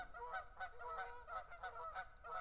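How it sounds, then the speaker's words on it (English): A flock of geese honks repeatedly outdoors close behind the listener, a steady run of overlapping nasal calls with no talk over them. "Hoping you can hear the klaxon of geese that are right behind me."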